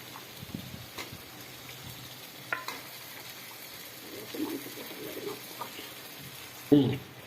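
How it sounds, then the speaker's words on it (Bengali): Rooster meat stirred and frying in a pan of spiced masala: a low, steady sizzle with scattered scrapes and clinks of the spoon, then a sharper clatter near the end. "এখানে আমি এখন মাংসটা ছেড়ে দিয়েছি, আমি এখন মাংসটা দিয়ে দিচ্ছি।"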